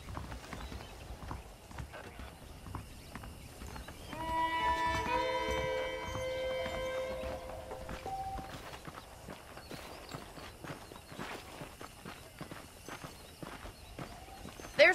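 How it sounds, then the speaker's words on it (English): Horse hooves clip-clop steadily on a dirt path in the Western video game Red Dead Redemption on Xbox Series S, an unhurried walking rhythm with occasional snorts, while characters talk and background music plays. "The horses are saddled up over here."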